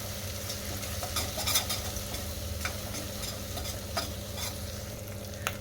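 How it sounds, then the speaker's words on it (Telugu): Onion paste with turmeric frying in a pan for a crab curry, giving a steady close sizzle with stirring scrapes and a few sharp utensil clicks. "ఆనియన్ పేస్ట్ని ఇలా బాగా ఫ్రై చేయాలి"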